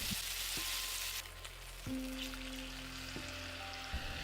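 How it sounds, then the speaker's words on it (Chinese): Teriyaki chicken thighs pan-frying with a steady, bright sizzle, broken by a few short scraping and pressing sounds from a spatula. "再煎2分钟。"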